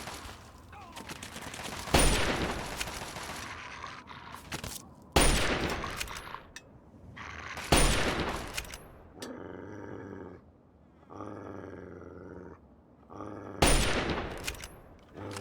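A strong gun fires in Fallout 3 as four loud, separate blasts spaced several seconds apart, with quieter game ambience and faint rumbling between the shots.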